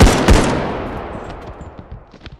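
Loud automatic gunfire in the Bodycam video game on the Abandoned Hospital map, a sharp burst of shots up front followed by a long reverberant decay and a few fainter scattered cracks.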